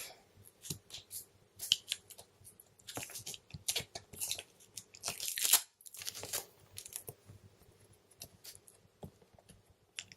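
Stickers being peeled off a black Xbox One Day One Edition box, close and fairly quiet, in irregular short tearing and crinkling bursts with pauses between them.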